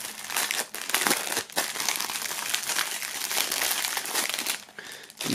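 Plastic foil wrapping crinkles and rustles continuously, close and fairly loud, with a few brief pauses, as items are pulled out of a tightly packed K-pop album box during an unboxing.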